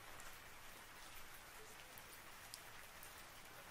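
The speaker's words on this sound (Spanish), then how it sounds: "Sí, está volviendo a llover." Soft, steady rain patters on a surface as a quiet, even hiss filling the background, with a few faint drop ticks and no clear talking.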